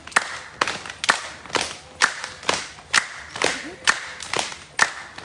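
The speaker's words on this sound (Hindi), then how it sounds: "बजेगी ताली ऊपर" Hands clap overhead in time with jumping jacks during a home yoga and exercise session, about a dozen sharp claps in a steady rhythm roughly every half second, close and crisp with light thuds of landing feet between them.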